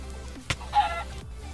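A chicken in a video game lets out a short cluck followed by a brief squawk, both close and fairly faint over a low background hum.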